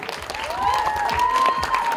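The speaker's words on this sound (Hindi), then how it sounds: "जोरदार ताली होनी चाहिए डायरेक्टर अनुराग सिंह के लिए" Applause from an audience at a film trailer launch event, a short burst of clapping under a sustained tonal sound, moderately loud throughout.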